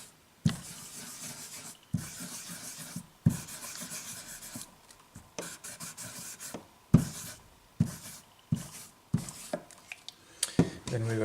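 Cloth rubbing fretboard cleaner into the frets of a Tradition T20Q Strat guitar, repeated short scrubbing strokes in bursts with clicks at each start, close and fairly quiet.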